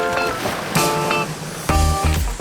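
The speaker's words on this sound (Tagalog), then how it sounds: "Mula sa Mampang, kailangan magbangka ng 10 minuto." A small motorboat crosses choppy ocean water near Mampang, Romblon, heading toward the Blue Hole. A loud engine hums close by, with bursts of wave splash and wind rushing over it.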